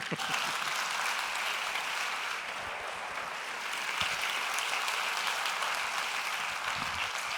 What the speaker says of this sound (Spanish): un fuerte aplauso para Alpoma, que lo queremos mucho